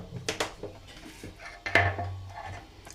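Chickpea flour being stirred with oil in a bowl for karantika, a few light clinks and scrapes of a utensil against the dish, close and quiet, with no talking.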